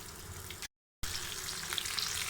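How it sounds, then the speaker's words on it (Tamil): Fish frying in hot oil Chennai Marina Beach style, a continuous close crackling sizzle with small pops, broken by a brief gap of silence before resuming, no speech. "இது வந்து ஒரு பக்கம் நல்லா பொரியட்டும். ஒரு 3 மினிட்ஸ்க்கு நல்லா பொரியட்டும்."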